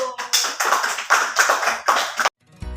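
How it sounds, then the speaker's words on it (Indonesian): Students in a classroom clap together in a patterned rhythm, about eight sharp, unified bursts in a steady beat that stop abruptly. "Tepuk tangan dulu."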